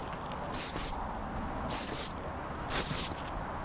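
A bird calling while flying over at dusk, when other birds have gone quiet: three separate high, thin squeaky calls, each about half a second long and evenly spaced, heard fairly clearly over a low, quiet background.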